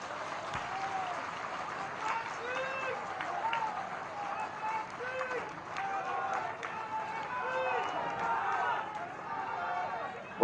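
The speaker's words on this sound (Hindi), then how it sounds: "सारे लोग एक बार हाथ उठाकर एक साथ ताली बजा देंगे" A large crowd at a Rajnath Singh political rally in Sagar claps together in a sustained, dense wave of applause with cheering and crowd chatter mixed in throughout.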